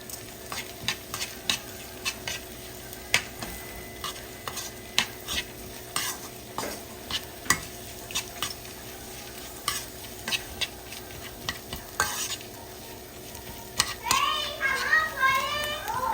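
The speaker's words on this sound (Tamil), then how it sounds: "இது இதுக்குள்ள போட போகிறேன், போட்டு மிக்ஸ் பண்ண போகிறேன்" Nasi goreng with fried prawns stir-fried in a pan: a constant sizzle under regular, sharp spatula scrapes and clacks, with children's voices rising near the end.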